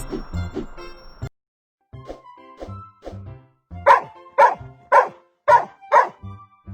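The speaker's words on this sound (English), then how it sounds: "Dog." A dog barks in short, sharp bursts: a few scattered woofs, then a quick rhythmic run of five louder barks, close and clear with silent gaps between.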